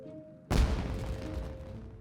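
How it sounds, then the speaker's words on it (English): Fireworks go off in the video game Genshin Impact: a sudden loud burst after a quiet half second, followed by a rumbling, crackling tail that fades slowly, with no voices. "It sounded like fireworks."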